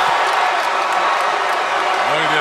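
A basketball arena crowd roars steadily after a couple of blocks by Kyle Washington in a North Carolina vs NC State college game, loud cheering filling the whole stretch beneath a voice.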